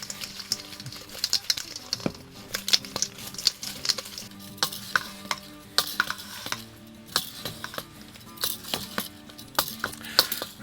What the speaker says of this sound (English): I'm gonna pour on some of this Korean sauce, this Korean style barbecue sauce. And then I'm just gonna mix them around.